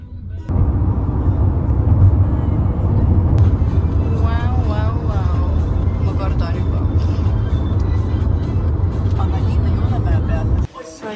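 A car drives toward an apartment in Spain, its steady engine and road rumble filling the cabin as a voice talks over it, before the sound cuts off abruptly near the end.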